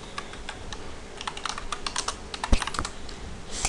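Someone types a search on a computer keyboard, a rapid irregular run of close, crisp key clicks with one heavier keystroke near the end.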